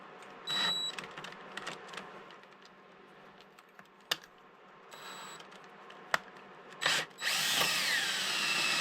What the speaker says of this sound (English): I should be able to feel it anyway on the drill